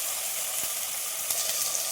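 Tomatoes sautéing in a pan for a Kerala-style fish curry give a steady, soft sizzle and hiss with faint crackles, continuous and close, with no talk.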